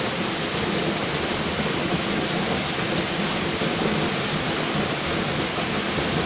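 Heavy rain pours down steadily outdoors, a dense, loud, continuous hiss with no voices.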